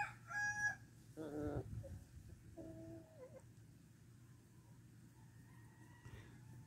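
Light Brahma chickens are heard faintly: a short crow, then a run of low clucks and a brief call, spread out over a steady low background hum.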